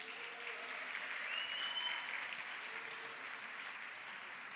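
Faint, distant audience applause for award nominees at a gala evening, a steady wash of many hands clapping that holds for several seconds without any speech.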